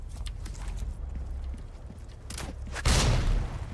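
Enemy gunfire aimed at the player in Resident Evil 4 Remake, sharp cracks and a louder booming burst late on, over a busy rumbling game background.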